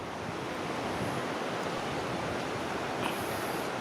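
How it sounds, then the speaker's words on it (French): The main waterfall of the Cirque de Gavarnie in the Hautes-Pyrénées, some 400 metres high, gives off a constant dense roar of falling water, steady and enveloping, heard from a distance with no voices. "Alors là c'est la cascade principale, 400 mètres de haut"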